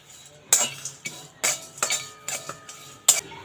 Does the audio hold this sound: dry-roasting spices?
yes